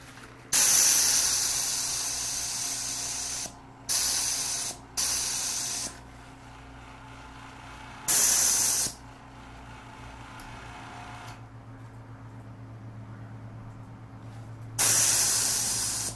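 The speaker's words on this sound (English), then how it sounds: "deal with a clogged airbrush the whole time" Bursts of broadband airbrush spray hiss from a clogged airbrush laying down paint, several short blasts of one to three seconds separated by pauses, close and loud over a steady low hum.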